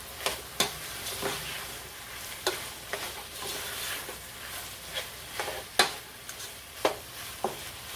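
Ground beef with pepper and basil being stirred in a pan, soft sizzling underneath irregular scraping strokes and sharp clicks of a utensil against the pan, close and moderately quiet.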